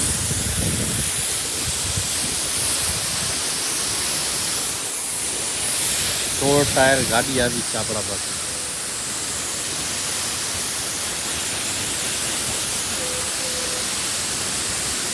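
A pressure washer blasts water onto a sixteen-tyre truck at a garage in rainy weather, a loud, steady hiss running throughout while someone talks briefly over it.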